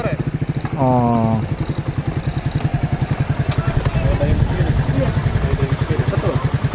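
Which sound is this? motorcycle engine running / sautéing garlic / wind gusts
motorcycle engine running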